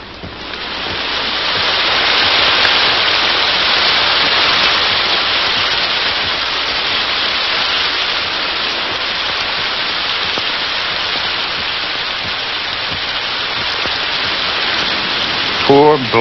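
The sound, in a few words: rain storm with breakers beyond the dune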